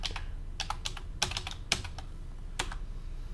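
Someone types a login and password on a computer keyboard, a quiet, close run of irregular clicks with a few sharper keystrokes and short gaps between them.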